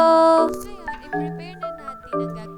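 A bright, clear chime rings out in a few quick, layered bell tones, like a short ding-dong alert, with no talking.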